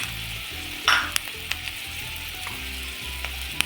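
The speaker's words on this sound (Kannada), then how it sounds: "ಇವಾಗ ಕ್ಲೀನಾಗಿ ಫ್ರೈ ಆಗ್ತಾ ಇದೆ" Paneer cubes seasoned with salt and pepper fry in a pan for paneer manchurian, giving a steady close sizzle punctuated by a few sharp spatter pops and light clicks, with no talking.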